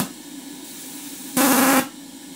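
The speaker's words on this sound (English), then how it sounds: "the safety valve's blowing off." A model steam engine's test-plant boiler, about six inches in diameter, blows off steam through its safety valve in a sudden, loud half-second hiss that rises over a quiet, steady running background and then cuts off.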